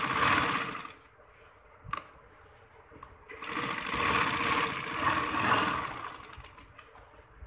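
A sewing machine stitches bridal tail maxi fabric, its motor running in a steady whirring burr. It stops briefly twice and then continues in a longer continuous run, close and fairly loud.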